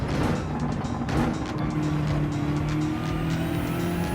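A GR3 race car in a racing video game brakes and turns through a corner on the St Croix circuit, engine roaring loud and steady with tire squeal through the turn, no talking over it.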